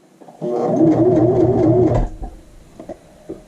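A sewing machine back stitching the seam of a child's shirt runs in one steady loud burst of about a second and a half, then stops, followed by faint handling clicks of the fabric.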